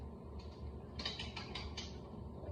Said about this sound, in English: we'll reverse the ratcheting system on our threader and we start to back it off